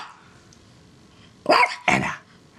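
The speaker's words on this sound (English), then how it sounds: "What are you barking for no reason for?" A pet dog barks twice in quick succession, close and loud, after a quiet moment with no talking.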